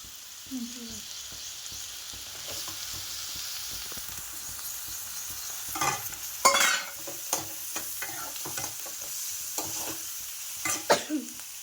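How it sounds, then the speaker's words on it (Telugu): Small cleaned pieces of kaddi fish fry in hot oil while being stirred, a continuous close sizzle broken by scraping, clattering stir strokes that grow louder toward the middle and end. "కొద్దిగా ఫ్రై అయిన తర్వాత ఇప్పుడు కడ్డీ చేపలు యాడ్ చేద్దాం"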